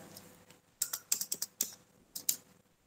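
Computer keyboard keys clatter during data entry in Tally accounting software, with a quick run of crisp, close clicks and taps including an Enter press, set against a quiet room.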